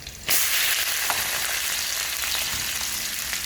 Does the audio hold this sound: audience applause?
no